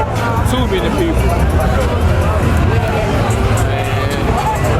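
Dense crowd hubbub on Austin's 6th Street during South by Southwest nightlife, a steady close wash of many overlapping voices and street noise surrounding the listener without pause.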